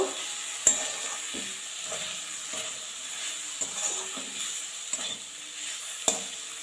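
A beetroot and banana-stem curry, just topped with chopped coriander, is stirred in a pan under a steady sizzle, with repeated spatula scrapes and occasional sharp knocks against the pan.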